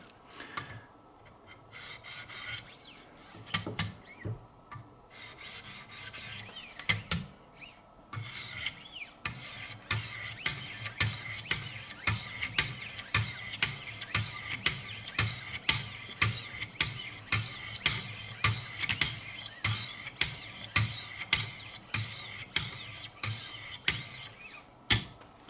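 A Schrade Old Timer knife blade rasps steadily against a 1000 grit stone on a Wicked Edge sharpening system, with close, even strokes that settle into a brisk, regular rhythm.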